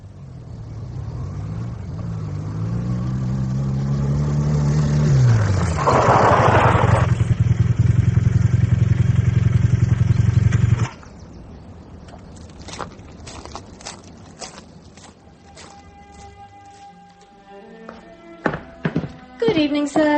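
A motorbike revving and pulling away in an audiobook sound effect, its engine rising in pitch and then holding a steady loud drone before cutting off, followed by scattered thuds and knocks.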